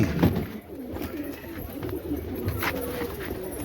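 Pigeons cooing close by in a soft, repeated low rhythm, with a brief flutter of wings near the start and faint background noise throughout.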